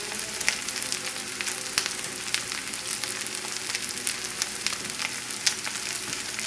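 Corned beef hash fries on very high heat in a pan, a dense, steady sizzle full of sharp popping crackles close by, with no talking.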